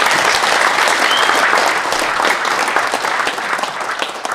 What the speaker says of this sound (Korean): 네 박수로 맞이해 주십시오